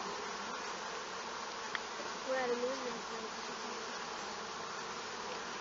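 Honeybees flying around the hive, a steady dense buzzing drone close by, continuous and even, with a faint brief voice in the middle.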